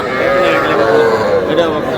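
At a cattle market in Noakhali, a young bull or heifer calf gives a drawn-out moo, close and loud, over a busy background of crowd voices.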